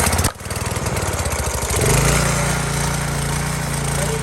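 A Ryobi petrol pressure washer engine is pulled into life with a rapid chugging that catches after about two seconds, then settles into a loud, steady, close-up running drone.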